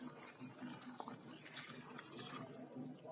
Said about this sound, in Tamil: இப்போ கொஞ்சம் நிறைய தண்ணி ஊற்றிக்கலாம்.